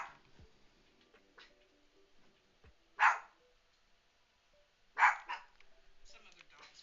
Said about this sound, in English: Some other dog's barking out there.